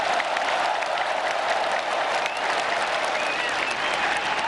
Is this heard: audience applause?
yes